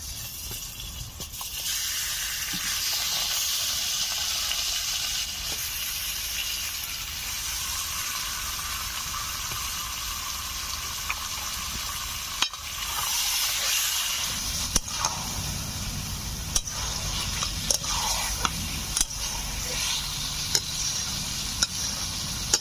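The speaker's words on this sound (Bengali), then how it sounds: "এখন মশলা মাখানো মাংস দিয়ে দেব।" Marinated chicken goes into a pan of fried onions and sizzles in a loud, continuous hiss, broken by occasional clinks and scrapes of stirring. No one speaks.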